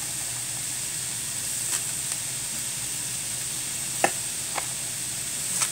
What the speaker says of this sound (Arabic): هسه هذا ونخليه شويه يحمس